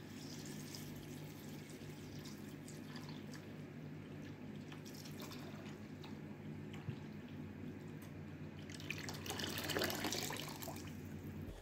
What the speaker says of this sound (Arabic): بعد كده هحط عليه مية واغطيه وهسيبه منقوع في المية